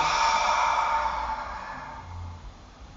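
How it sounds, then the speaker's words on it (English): A long, breathy exhale during a yoga class, close and soft, starting strong and fading out over a few seconds. "Big exhale."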